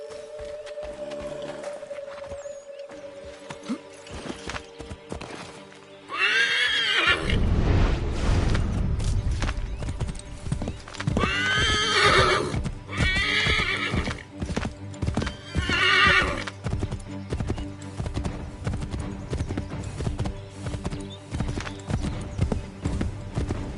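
A horse in the Assassin's Creed III video game clip-clops and neighs loudly, with repeated whinnies over steady hoofbeats and some creaking, following a brief quiet stretch with a low tone at the start.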